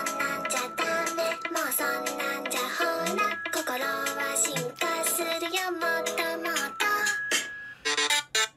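An anime-style phone ringtone plays loudly and continuously inside a pet store, a bright melodic tune with repeating notes and sustained tones that stops abruptly at the end.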